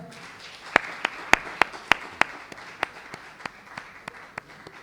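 Sparse applause during an elimination round of a televised slam competition, with a dozen or so distinct sharp claps at first and then slowly fading, fainter claps over a quiet room.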